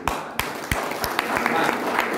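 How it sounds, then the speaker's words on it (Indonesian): An audience at a business seminar in a Makassar hotel claps, with a few sharp separate claps at first that quickly build into denser applause. "Ya, oke, tepuk tangan."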